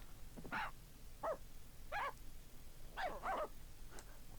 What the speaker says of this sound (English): Let's see how he likes our other dogs.